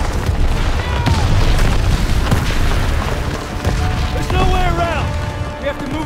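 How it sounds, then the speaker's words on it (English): Artillery barrage explosions in the Call of Duty: WWII video game, a loud, continuous rumble of deep booms and crashes that rolls on without a break, with shouting voices and other game sounds layered over it. "Artillery barrage!"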